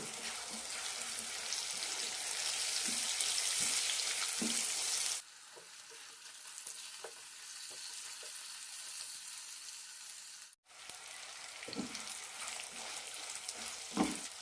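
Green chillies for a masala fry sizzle steadily in a pan, loud and bright at first, then quieter after a sudden drop, with faint stirring scrapes and small crackles and no voices.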